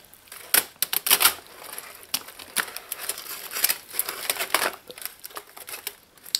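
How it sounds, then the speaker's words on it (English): Aluminum foil is folded into pouches for seafood, giving bursts of crisp crinkling and sharp creasing snaps in an irregular rhythm, close and fairly loud with no talking. "here I have foil paper, and I actually folded the foil paper 3 times"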